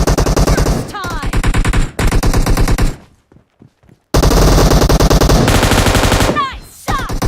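A golden machine gun fires in a team shooter video game, loud, close, dense automatic bursts that stop for about a second before rattling on again.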